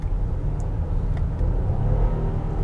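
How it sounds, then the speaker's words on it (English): A 2022 Nissan Pathfinder's V6 accelerates, heard from inside the cabin as a steady, muted, low engine drone with a mild rise in pitch and no speech. "that V6, it does sound really strong, but it sounds muted"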